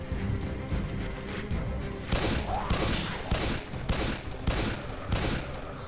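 Rapid gunfire in the Resident Evil: During the Storm demo, starting a couple of seconds in as a string of loud, evenly spaced shots over a rumbling game backdrop.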